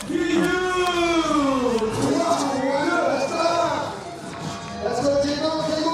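A crowd cheers at the FISE Budapest 2017 roller freestyle park World Cup final: loud whoops and shouts from the stands, with one voice sustaining long rising and falling yells above the general roar, which dips briefly before surging again.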